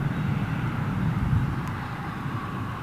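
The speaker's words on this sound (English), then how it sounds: "Virgin Dreamliner off to Chicago as well" A Virgin Boeing Dreamliner departs London Heathrow from runway 27L, its engines a steady, heavy jet roar heard from a distance with no voices.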